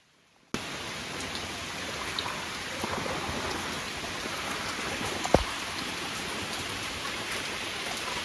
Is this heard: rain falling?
yes